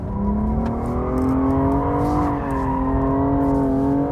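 BMW M235i driven at full throttle into oversteer, its engine holding a loud, steady high-revving drone with a slowly rising pitch, tires squealing along with it, recorded close and continuous.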